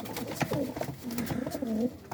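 Several coop pigeons give repeated low, burbling coos close by, calls overlapping in a continuous murmur with light shuffling noise in the background.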